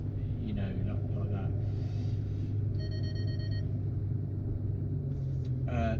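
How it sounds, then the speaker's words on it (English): Parking sensors in a Ferrari FF V12 give a short run of steady electronic beeps over the low rumble of the car's cabin, while a person talks. "That's the parking sensors, by the way, what's beeping."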